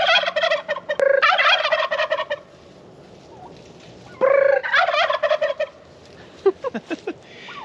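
Turkeys gobble loudly in two rapid rattling bursts, close by, with quieter calls and chirps scattered between them.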